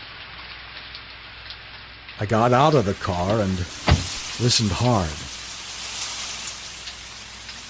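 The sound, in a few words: rain falling in a radio drama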